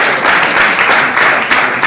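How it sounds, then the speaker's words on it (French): An awards ceremony crowd applauds loudly and continuously, with a thick, even wash of clapping and no voices over it. "Est-ce qu'on peut applaudir bien fort pour Linda?"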